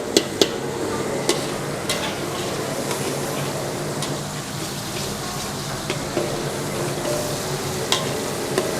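Garlic frying in oil and margarine in a pan gives a dense, continuous sizzle with occasional clicks of stirring, close and steady throughout, with no voices.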